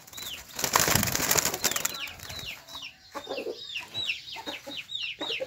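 Fighting roosters cluck at a bird-keeping yard, low clucks and a burst of wing flapping early on, mixed with many repeated high, quick chirps from other birds throughout.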